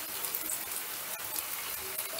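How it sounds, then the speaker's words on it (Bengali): Semolina fritters fry gently in oil over a low flame, a soft, even crackling sizzle held close and steady, with a brief clatter right at the end. "গ্যাসের আঁচটা লোতেই রেখে আমি মিনিট 5 মতন ঘুরিয়ে ফিরিয়ে ভেজে নিলাম।"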